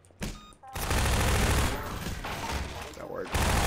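Sustained rapid bursts of gunfire fill most of the stretch in a first-person shooter, loud and dense, with brief gaps and a short pause before it resumes.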